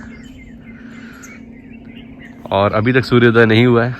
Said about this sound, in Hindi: चिड़ियों की चहचहाने की आवाज़ आ रही है